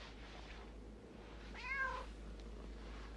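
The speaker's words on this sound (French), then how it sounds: "J'adore les chats." A cat gives one short meow midway through, moderately clear over a steady low hum and quiet room noise, with no talking around it.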